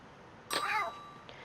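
A single short, bright cat meow from a video game rises and falls over about half a second, fairly loud against a quiet background, with a faint tonal ring lingering after it.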